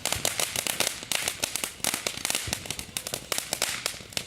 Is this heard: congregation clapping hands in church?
no